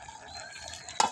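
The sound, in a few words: stirring food in a cooking pot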